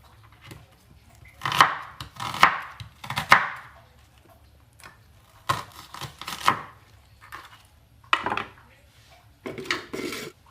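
Onions are sliced with a knife on a cutting board at close range: clusters of sharp knocks and scrapes arrive in short groups, separated by quiet gaps.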